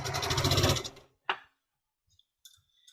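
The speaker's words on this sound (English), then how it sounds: "So let's get this next seam sewn." Sewing machine stitching a seam, a brief fast mechanical whir that winds down after about a second, followed by a sharp click and faint handling noises.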